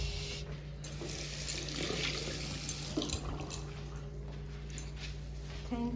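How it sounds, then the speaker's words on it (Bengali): A tap runs steadily into a sink while hands are washed, a continuous rushing stream with small splashes and a dog faintly in the background. "দাও 1 মিনিট, হাতটা ধুয়ে নি।"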